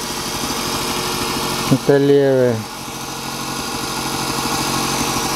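A Power Maxx 500W angle grinder with a rewound armature runs with a loud, steady motor hum, briefly interrupted by a voice partway through.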